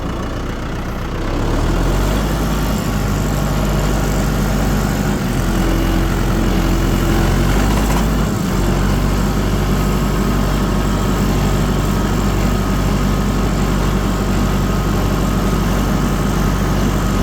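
A vehicle engine driving slowly in low third gear on a mountain road, a loud, steady low rumble that holds for the whole stretch after a quieter start, with no talk.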